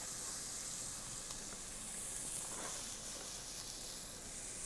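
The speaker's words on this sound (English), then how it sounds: "we're just going to let that sweat now. Very gently, just soften those onions." Chopped onions sweating gently in a heavy-based pan give off a soft, steady hiss, a faint continuous sizzle with no talk over it.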